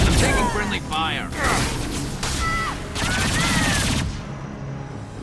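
Rapid gunfire and weapon blasts from a Mass Effect 2 firefight, loud and continuous bursts layered with combat voices, voices talking throughout, then cutting off abruptly near the end.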